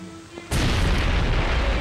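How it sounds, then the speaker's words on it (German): A railway bridge at Nijmegen is blown up by a demolition charge, a sudden loud boom that erupts after a quiet moment and rolls on as a sustained, roaring rumble. "Zur festgesetzten Minute fliegt die Brücke in die Luft."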